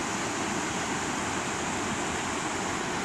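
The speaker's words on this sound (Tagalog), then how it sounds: "tunog ng ilog kasi dito lang sa baba" A river flows just below a garden, giving a steady, dense rush of water that stays even and fairly loud throughout, with no voices.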